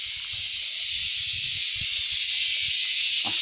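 A freshly caught cicada gives a loud, steady, hissing buzz close up, with faint handling rustles and bumps underneath.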